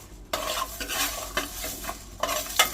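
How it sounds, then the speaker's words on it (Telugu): Coriander seeds dry-roasting in a bowl on the stove are stirred in quick, repeated scraping strokes, with a light sizzling crackle between them. The sound is close, and no one speaks. "ఇందులో ధనియాలు వేసి వేయించుకుందాం"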